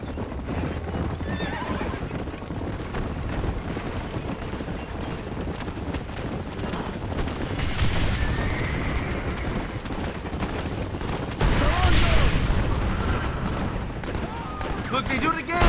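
Horses in Red Dead Redemption gallop with steady clip-clopping hooves and let out loud neighs, mixed with bursts of gunfire and battle noise, with a voice talking now and then.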